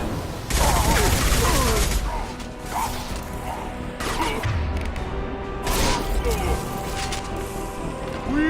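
Gunfire in Mass Effect 2, bursts of automatic weapon fire and heavy impact shots in several clusters, with mechanical clanks and whooshes between them, loud and near.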